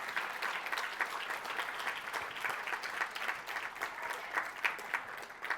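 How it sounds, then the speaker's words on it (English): An audience at the 2022 Commonwealth Bank Teaching Awards ceremony gives a sustained round of applause, a steady and fairly distant wash of many hands clapping that continues throughout. "Give them all a round of applause as they make their way to the stage."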